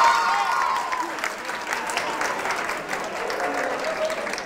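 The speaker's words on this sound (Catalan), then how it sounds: "Per tant, aplaudiments." Studio audience applause on Pica Lletres, a Catalan TV word game show, after a contestant's answer is accepted: sustained, even clapping from a crowd, fairly close and loud, with faint voices and a brief tonal sound near the start.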